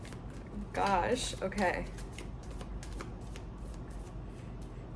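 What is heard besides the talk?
shuffling cards with cards falling out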